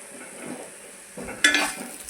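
A spiced potato filling with turmeric, salt and cumin is fried and stirred in a pan, giving faint scraping and soft sizzling that grows louder near the end.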